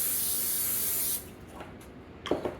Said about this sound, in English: We're going to spray the cling wrap